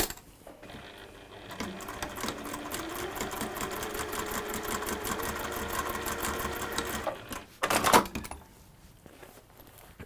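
A sewing machine stitches fabric closed, running steadily at a close, fairly loud level for about seven seconds, then stopping with a brief clatter before near quiet.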